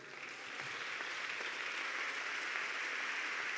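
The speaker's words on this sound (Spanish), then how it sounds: "¿quieren darle un aplauso a Él?" A church congregation claps in sustained, dense applause that builds quickly and holds steady and full, many hands together with no voices over it.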